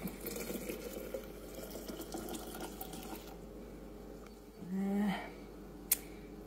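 Shagbark hickory syrup pours in a steady trickle into a tiny jar, then a brief hum and a sharp clink near the end; quiet room otherwise.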